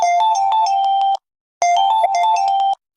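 A mobile phone ringtone plays a bright repeating melody in two loud bursts, separated by a short pause, as an incoming call from a friend rings close by.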